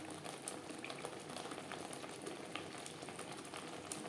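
Spices stirred and frying in a pan while making a Bengali pomfret fish curry, a soft, steady crackling sizzle with no voices, fairly faint and close.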